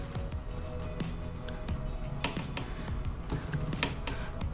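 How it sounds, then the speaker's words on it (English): Fingers type quickly on a clicky wireless computer keyboard at a desk, giving a dense run of close, crisp key clicks with no talking. "I like the clickiness of the keyboard."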